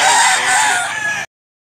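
A rooster crows once, loud and close, a bright, strained call lasting just over a second amid the bustle of a chicken market in Mantalungon, Cebu, then cuts off sharply.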